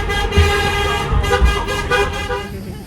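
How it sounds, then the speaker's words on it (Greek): A car horn sounds in a steady, sustained blare with brief pulses, loud and close, with a few faint voices in the background. "Πρώτη φορά πατάω κόρνα."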